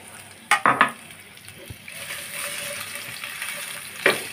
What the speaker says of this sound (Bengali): মশলাটা আমি একটু ভালোভাবে কষিয়ে নিব